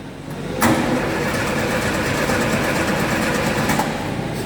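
The engine of a 1973 Volkswagen kit car cranks and catches, then settles into a steady, loud, rattly run with the hood up.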